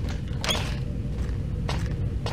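A creaking door in the dark basement fallout shelter of the 2005 video game The Rising: a few short creaks and mechanical clunks spaced apart over a low steady hum, with no speech.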